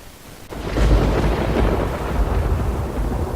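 A loud, deep rumble of thunder bursts in after half a second and rolls on steadily to the end, a broad low roar with no voices over it.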